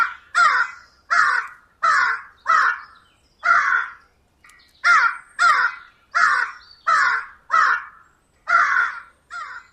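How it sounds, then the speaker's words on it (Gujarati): A crow cawing loudly and persistently, a dozen harsh close caws in an even repeating rhythm with brief gaps between them, alone without other sounds. "પપ્પુ કાગડાનો સતત અવાજ સાંભળીને વાઘ અટકી ગયો."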